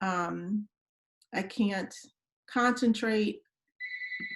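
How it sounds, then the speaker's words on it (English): A telephone rings in the background during a webinar, its electronic tone coming in near the end after a woman's speech. "I'm so sorry for the ringing phone in the background."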